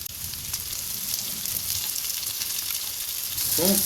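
Potatoes and cauliflower frying in a pan, giving off a steady, close sizzle and crackle that keeps going throughout and grows slightly louder toward the end.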